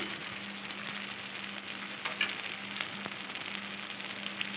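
Cashew paste masala frying in oil in a pan, with a continuous close crackling sizzle and a low steady hum underneath, plus a few soft stirring clicks.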